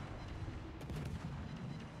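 A naval artillery salvo in a warship video game sounds as a dull, distant rumbling boom with a brief burst of noise midway, low and muffled under steady background noise.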